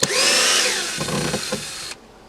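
Power drill backing screws out of an outdoor worktable top, a loud close whine that runs steadily, then stutters with a few bursts before cutting off, with no talk.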